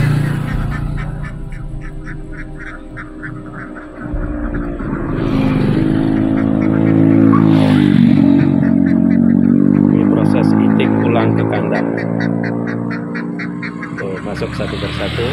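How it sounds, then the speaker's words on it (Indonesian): A flock of ducks returning to their pen quacks steadily and noisily up close, the calls swelling and overlapping as the birds crowd together, with a low engine-like drone underneath. "Kita lihat proses itik pulang ke kandang."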